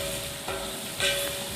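Onions and green chillies sauté in oil in a large batch of tomato rice for a hundred people, giving a steady, close sizzle with a short stirring scrape partway through and a brighter burst near the end.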